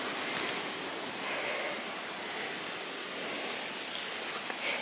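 An autumn waterfall in the Ariège countryside makes a steady, soft, distant rushing hiss that stays even throughout with no voices.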